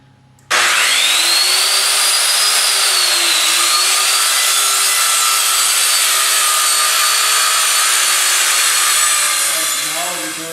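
A saw cuts steadily through wood for trebuchet uprights, a loud, continuous rasp close by that stops abruptly near the end.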